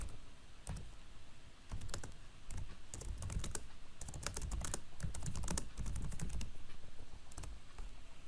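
Steady typing on a computer keyboard while writing a prompt for an AI chatbot: fast, continuous key taps, close and clear over a constant background hiss, without speech.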